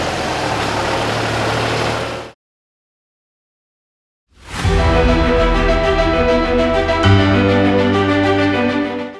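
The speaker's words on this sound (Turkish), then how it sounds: "salatalıkları yere dökerek traktörle üzerinden geçtiler" A heavy tractor engine rumbles at close range as it drives over dumped cucumbers, drops out into silence for about two seconds, then returns as a steady, throbbing low drone.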